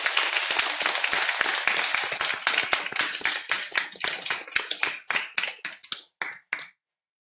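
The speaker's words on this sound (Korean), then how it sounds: "우리 다시 한번 영광의 박수 한번 올리겠습니다" A church congregation claps together during a Korean Sunday thanksgiving service, starting as dense unified applause and thinning into scattered, separate claps before stopping.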